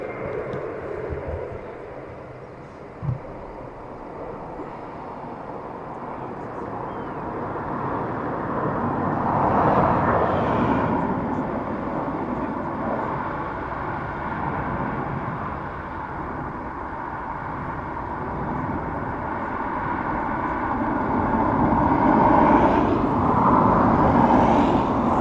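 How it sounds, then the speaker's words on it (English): A Malta Air Boeing 737 MAX 8 arriving at Dublin Airport, a broad steady jet roar that swells and fades over the whole stretch, moderately loud at a distance. "So MAX 8, Malta Air."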